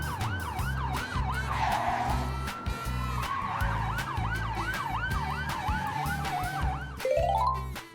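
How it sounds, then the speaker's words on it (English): A mobile ICU ambulance siren wails in steady rising and falling sweeps, loud and close, over a low rumbling engine, ending with a quick rapid yelp burst. "This is a mobile ICU ambulance."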